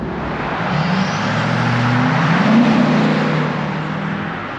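A 2005 Chevrolet SSR roadster with a 390 hp 6.0L LS2 V8 drives steadily, a loud, continuous engine drone and road rumble that swells slightly mid-run, with no talking.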